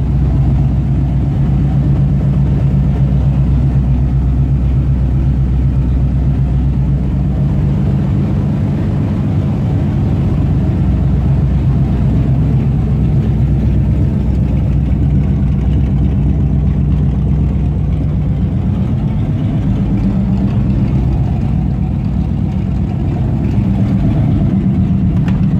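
A classic car, a Pontiac Firebird or Chevrolet C10 pickup, idles loudly and close by with a steady, deep engine rumble and a slight change in tone partway through, and no speech.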